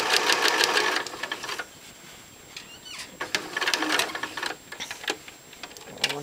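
A sewing machine stitches a hexagon (hexie) quilt piece, running in fast steady bursts of rapid mechanical ticking, pausing briefly, then resuming in short runs close up with no voices over it.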